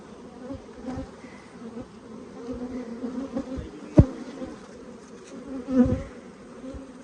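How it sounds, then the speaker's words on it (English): Steady droning buzz of honey bees at a hive, close and continuous, with a few soft knocks and bumps over the swarm. "Man, look at those bees."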